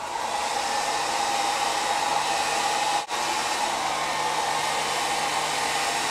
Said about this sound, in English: Okay, this is my hairdryer. I'm just going to go over this for a minute or two.